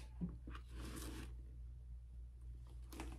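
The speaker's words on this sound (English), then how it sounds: "And let's get this zipped." Zipper on a Louis Vuitton Speedy B handbag being pulled shut: a close, rasping zip in the first second, then quieter handling and a short second zip near the end.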